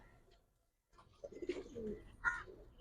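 Soft, low cooing of a Giribaz pigeon, faint and close, after a moment of near silence, with a few light rustles.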